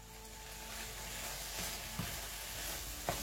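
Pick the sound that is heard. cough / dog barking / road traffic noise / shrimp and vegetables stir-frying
shrimp and vegetables stir-frying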